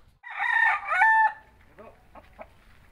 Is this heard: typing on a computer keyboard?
no